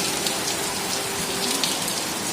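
Heavy rain pours down steadily as a dense, continuous hiss of drops striking surfaces close by, with no voices heard.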